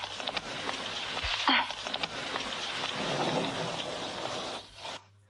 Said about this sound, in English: it's terribly bad weather outside, pouring and stormy